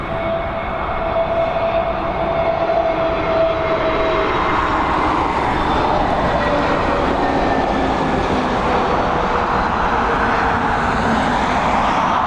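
Large airliners on pushback and taxiing at Dublin Airport produce a steady, continuous jet engine roar with a faint whine, loud and unbroken throughout with no talk.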